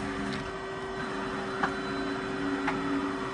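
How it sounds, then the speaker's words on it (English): X-axis ball screws moving on a Daewoo 150G CNC gang lathe with Fanuc control, a steady whirring machine hum with a few faint ticks, no loud knocking. "As you guys could try to hear those ball screws."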